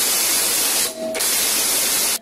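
WD-40 lubricant sprays in a loud, close hiss onto the rear shock absorber bolts of a motorcycle, with a brief pause in the middle before the spray resumes and then cuts off.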